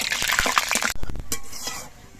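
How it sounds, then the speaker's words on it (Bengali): Two dry red chilies and a pinch of nigella seeds fry in mustard oil for a leafy greens dish, with a bright, crackling hiss that cuts off abruptly partway through, leaving faint stirring and pan noises. "কালো জিরে আর শুকনো লঙ্কাটা ভেজে নিতে হবে"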